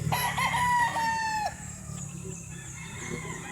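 A straight comb black Boston rooster crows once, close and loud, a drawn-out call lasting about a second and a half, followed by quieter farmyard ambience.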